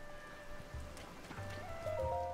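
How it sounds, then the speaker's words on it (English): Steady rain falling in The Legend of Zelda: Tears of the Kingdom, a soft continuous patter under low game music and tones, with no talking. "Is it raining now specifically as part of like a challenge of getting up there?"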